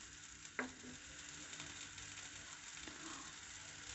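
Sliced onion fries in oil as a quiet, steady sizzle with faint crackle, marked by one brief sharp clink of a utensil near the start and a few soft stirring touches.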